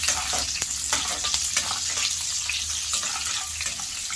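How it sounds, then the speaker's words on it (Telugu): Chopped onions fry with urad dal and chana dal in a pan, a continuous bright sizzle with occasional stirring clicks, close and fairly loud, without speech. "ఉద్దిపప్పు శనగబేడలు దోరగా వేగిన తర్వాత కట్ చేసుకున్నటువంటి ఆనియన్స్ను ఫ్రై"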